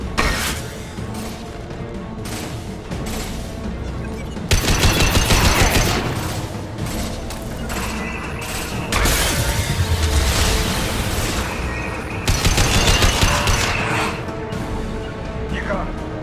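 Heavy, sustained gunfire from a Mass Effect 2 firefight, with dense fusillades and booming bursts that swell and ease over the stretch, loud and continuous, with a voice speaking over parts of it.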